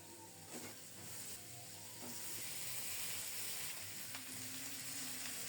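Cauliflower fries in oil and cooked-down spice paste, a steady close sizzle and hiss with a few faint stirring scrapes, no talking.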